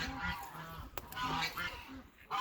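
Farm geese honking at close range while feeding on pumpkins, several short nasal calls in quick, irregular succession, fairly quiet overall with a brief click in the middle.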